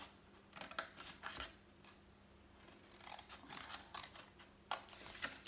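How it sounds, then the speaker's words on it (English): Scissors snipping through card while making a rectangular gift box, a series of quiet, close crisp cuts in irregular bursts with no talking. "So all you're going to do is cut up here on each side."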